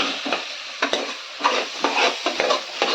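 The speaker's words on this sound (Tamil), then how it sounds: "காய் நல்லா வதங்கட்டும் போட்டோம்னாக்கா நல்லாயிருக்கும்" Vegetables for veg biryani sautéing in a pan, a spatula scraping in quick regular strokes about twice a second over a crackling sizzle, loud and close with no voices.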